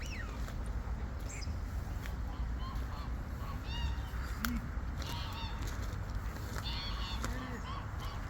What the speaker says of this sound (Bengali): লেকের ভিতরে প্রচুর পরিমাণ হাঁস পাখি রয়েছে।